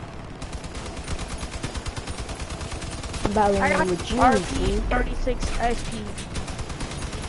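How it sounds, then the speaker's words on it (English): Rapid automatic gunfire from many players in a shooter game, a dense, fast rattle of shots running throughout, with someone talking over the middle section. "a whole bunch of people shooting at me"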